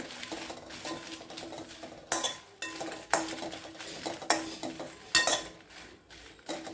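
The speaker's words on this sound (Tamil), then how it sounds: "9 மிளகா எடுத்துருக்கேன். இது வதக்கி எடுத்துடலாம்" Dried red chillies sauté on low heat in a pan, with a soft background sizzle punctuated by several loud metallic scrapes and clanks of a spoon against the pan at irregular intervals.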